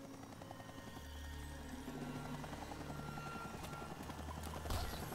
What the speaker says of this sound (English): Get to the helicopter.